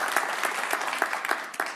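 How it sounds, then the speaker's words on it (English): Audience applause in a university lecture setting, a dense steady patter of many hands clapping together, fairly loud and sustained throughout with no voices over it. "Can we just give them a round of applause for the leadership at Washington State University"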